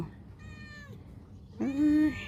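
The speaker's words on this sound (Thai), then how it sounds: "ลูกแมว" Two kitten meows, a thin high one followed by a louder, longer cry after a short pause, over faint background noise.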